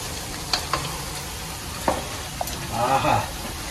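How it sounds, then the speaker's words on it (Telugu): Chicken being mixed into a curry in a pan, alongside frying minapa garelu, gives a soft sizzle with a few sharp utensil clinks and a brief scraping stir near the end, close and moderately loud. "సో చికెన్ అయితే బాగా కలుపుకుందాం"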